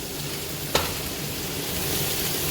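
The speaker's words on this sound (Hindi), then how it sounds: "अब तकरीबन 1 मिनट इसकी भुनाई करेंगे" Ginger, garlic and green chili paste frying in a pot, a steady close sizzle throughout with one brief clink of a utensil early on.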